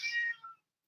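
A single short meow from a cat kept outside, fairly close and clear, fading off quickly into silence.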